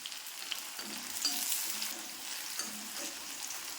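Onion, garlic and curry leaves fry in hot oil for a chutney, giving a soft, continuous close sizzle with faint stirring, quiet and without any voices.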